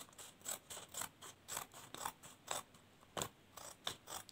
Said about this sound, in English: So you are going to cut out these excesses.